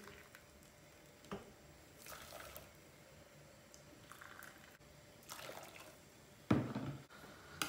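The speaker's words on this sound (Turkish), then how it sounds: "İki su bardağı kaynayan su vereceğiz." Boiling water is poured onto dry bulgur in a kitchen, with a short wet splash and gush near the end and quiet handling sounds before it.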